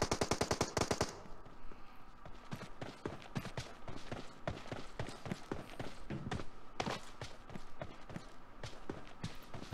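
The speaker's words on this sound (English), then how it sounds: "I just heard suppressed fire." In PUBG Mobile, suppressed automatic gunfire rattles in quick bursts. An opening burst is loud and close, then lighter repeated shots keep going at a rapid, uneven rhythm.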